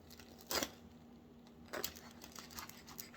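A knife saws through the crust of a homemade bread loaf, giving two distinct crackly crunches followed by lighter scratchy cutting strokes, close and fairly quiet with no talk.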